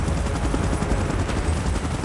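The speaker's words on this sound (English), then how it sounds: "Chopper in position." A helicopter in a Godzilla and King Kong game scene produces a dense, continuous rotor chop, loud and close, with a thumping low rumble throughout.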